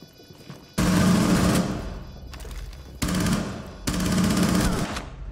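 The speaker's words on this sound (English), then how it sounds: "That was a lot of bullets." Three loud, sustained bursts of automatic gunfire in Rainbow Six Siege ranked play, each a dense rapid rattle lasting about a second or more, separated by brief gaps.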